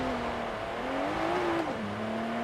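A steady engine drone from a Porsche Macan Turbo SUV in the video game Forza Horizon 3, with a tonal hum that rises and falls gently as it drives uphill, fairly quiet and continuous.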